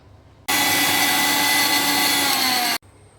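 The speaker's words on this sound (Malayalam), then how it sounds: "അല്പം ഉപ്പ് ചേർക്കാം നല്ലവണ്ണം അരച്ചെടുക്കണം" A kitchen mixer grinder blends pani puri ingredients with tamarind, water and salt, starting abruptly into a loud, steady motor whirr that runs for about two seconds and then cuts off.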